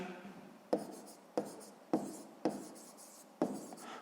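A pen writes by hand on paper during a maths exercise, five distinct taps and short scratching strokes spaced about half a second apart, quiet and close over faint background hiss.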